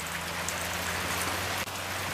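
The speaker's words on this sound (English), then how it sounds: "it is raining" Steady rain falls outdoors near bird feeders, a dense, even hiss with a low hum underneath and one brief soft knock near the end.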